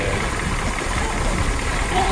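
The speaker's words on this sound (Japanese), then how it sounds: "この止まりそうで止まらない そう アイドリングがチューニングカーみたいですね" A steady, rumbling engine of a classic step-nose Alfa Romeo 105-series Giulia idles with a slightly uneven, lumpy beat, close by and continuous throughout.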